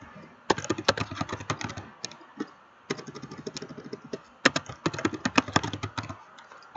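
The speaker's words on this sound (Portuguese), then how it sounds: "Dou um toque novamente na tecla Tab" Rapid computer keyboard typing with Tab key presses while filling in an Excel spreadsheet, in dense bursts of close clicks separated by short pauses, with no talking.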